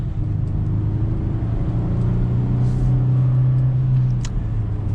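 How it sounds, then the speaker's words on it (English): Chevy Colorado ZR2 pickup truck with an 8-speed automatic setting off, its engine a steady, loud low drone that rises slightly in pitch as it pulls away, heard from inside the cabin without talk. "setting off now in the ZR2, we get an 8-speed automatic transmission"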